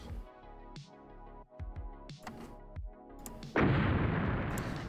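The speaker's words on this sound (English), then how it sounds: "That's the Doom barrel explosion sound combined with the Doom barrel explosion animation and stuff" Doom barrel explosion from a video game: several sharp thudding booms in quick succession, then a loud sustained roaring blast that fills the last second and a half.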